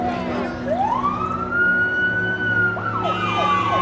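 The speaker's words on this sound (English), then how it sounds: "the sirens of emergency vehicles all coming in and out of focus" Emergency vehicle sirens in an audio drama rise in a long wailing sweep, then break into quicker yelping warbles, loud and steady over a low droning background.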